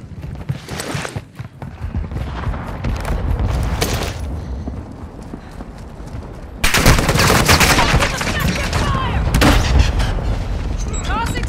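Gunfire in a shooter video game: rapid bursts and single shots, near and loud, growing denser and heavier partway through, with voices over the shooting.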